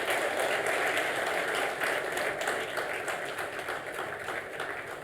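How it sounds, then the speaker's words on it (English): Sustained applause from an audience at the Make In Odisha investors' conclave in Hyderabad, welcoming the Chief Minister of Odisha; dense, steady clapping that fills the hall for several seconds, slowly easing toward the end. "please join me in applauding the Honorable Chief Minister"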